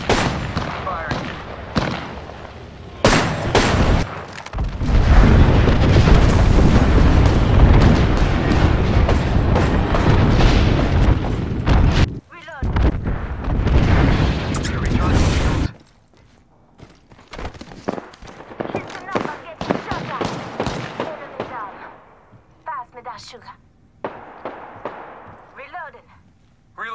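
Grenade and airstrike explosions in the shooter game Apex Legends: heavy, sustained booming blasts for the first fifteen seconds, then scattered sharper bangs and gunfire, with a player talking over the action.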